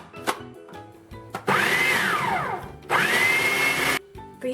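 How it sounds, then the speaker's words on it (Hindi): A kitchen blender grinds minced meat with boiled chana dal for shami kabab, whirring loudly in two long bursts of about a second and a half each, with brief pauses and handling noises between them. "अब मैं इसमें कीमा और चने की दाल डाल के पीस लूँगी।"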